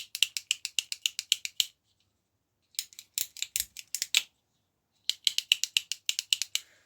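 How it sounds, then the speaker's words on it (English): On an early-1990s Orange titanium bicycle that has been serviced and oiled, the gear shifter ratchet clicks crisply through its indexing, in three rapid runs of sharp close clicks separated by silence. "One of the shifters was also sticking as well on the actual ratchet system"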